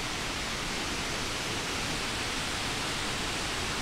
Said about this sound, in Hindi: ये डिपो से सबसे नज़दीक वाला वाटरफॉल है